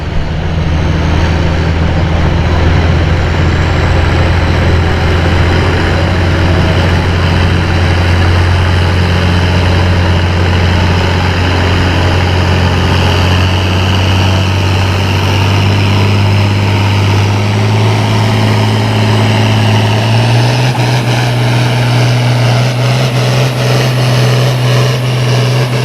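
An International 1066 tractor roars in a field farm tractor class pull in Hastings, Michigan: a loud, steady, low engine drone that holds for the whole stretch and rises in pitch toward the end.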